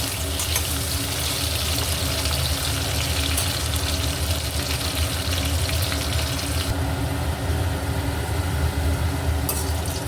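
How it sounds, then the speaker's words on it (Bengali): Potatoes fry in oil until reddish-brown, with a constant loud hiss and crackle, unbroken throughout, with no talking. "আলুগুলো আমি লাল লাল করে ভেজে নেবো"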